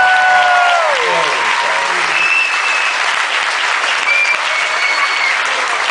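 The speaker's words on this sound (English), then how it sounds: "And the village people give him a nice round of applause." A comedy show audience breaks into a loud, dense round of applause that holds steady from start to finish, with a faint tone fading under the clapping at the opening.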